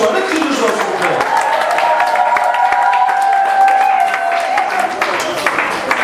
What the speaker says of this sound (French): est-ce qu'on peut faire encore un tonnerre d'applaudissements pour cette rentrée fracassante?